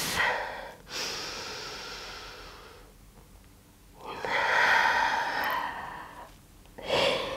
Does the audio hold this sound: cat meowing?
no